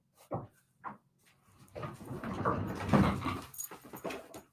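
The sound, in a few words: dog whimpering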